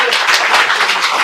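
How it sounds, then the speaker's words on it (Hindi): An audience claps hands in a classroom-style gathering, a close burst of overlapping claps with a quick uneven rhythm. "ताली बजाने में आप कंजूसी ना करें, इससे हाथ का व्यायाम भी होता है।"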